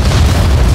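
A single deep, rumbling boom of a rocket explosion in Just Cause 4, loud and low, filling the short moment without any voices.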